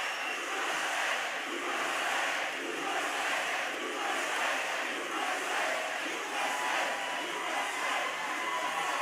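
A large crowd at a Trump campaign rally in Newton, Pennsylvania cheers and roars continuously, a dense, sustained wash of voices that holds steady throughout.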